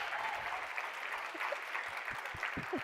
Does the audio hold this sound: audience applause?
yes